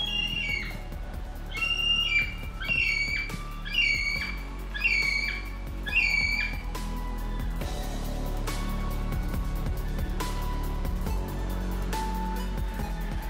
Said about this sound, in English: they're all around us because they're squawking all the way, all 360 degrees.